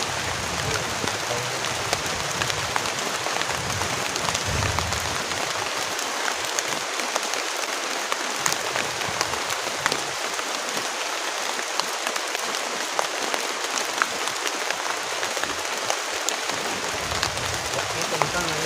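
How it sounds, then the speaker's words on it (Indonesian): Heavy rain pours steadily onto a campsite tent during a storm, a dense, constant loud hiss of drops drumming on the fabric, with voices speaking occasionally beneath it. "karena hujannya deras banget teman-teman, kita harus benar-benar cepat-cepat pasang tendanya"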